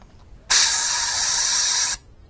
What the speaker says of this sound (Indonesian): Dan kemudian kita semprot, pastikan ini lancar